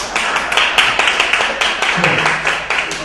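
Audience on a cruise ship show clapping in a dense, steady patter of close handclaps for a few seconds, with a faint voice briefly underneath.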